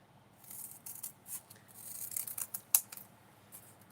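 Scissors snip through strips of craft material in a quick series of crisp, close cuts, with short pauses between them and no talking.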